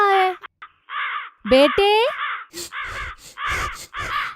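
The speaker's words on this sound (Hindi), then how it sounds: "सारे कौवे उसको भगा रहे हैं।" Cartoon crows cawing repeatedly in rapid harsh bursts as they chase a boy, loud and close, mixed with animated character voices and speech.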